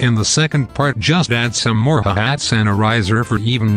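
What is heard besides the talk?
None of the usual background noises is heard.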